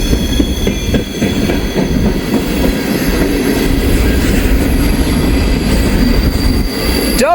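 A freight train with double DPU locomotives rolls past close by, loud continuous rumbling with wheel clatter and a high metallic squeal running over it throughout.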